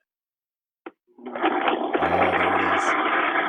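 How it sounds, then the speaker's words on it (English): A Vitamix blender motor starts after a brief click and runs loudly and steadily, whirring and grinding, with a short spoken remark near the start. "we got the Vitamix now I'm going to blend."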